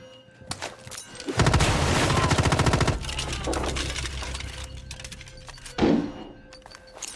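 Automatic gunfire in the video game Rainbow Six Siege: a sustained, rapid burst of close, loud shots, followed by scattered single shots and a heavy thump near the end over the game's ambient noise.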